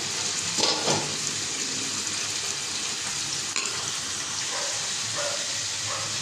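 Potatoes and onions fry in a pan, a steady broadband sizzle holding throughout at moderate level, with a few faint clinks and small bursts on top and no talk.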